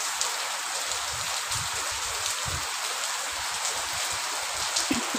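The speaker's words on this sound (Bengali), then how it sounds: "কিন্তু এত বৃষ্টি পড়ছে, ঝাঁট আসছে, ভিজেই যাচ্ছে।" Heavy rain pours onto a balcony on a cool day, a dense, continuous hiss of falling water and drops with no break and no voices.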